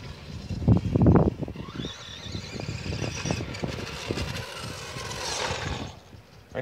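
A restored Tamiya Blackfoot RC car with a brushed silver can motor on a 2S LiPo whines and buzzes as it drives, the motor pitch rising and falling with bursts of throttle close by.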